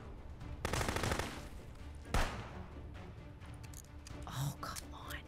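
Gunfire in the video game Contraband Police: a burst of rapid shots, then a single sharp loud crack, and a few fainter later sounds, all over a constant game-world background.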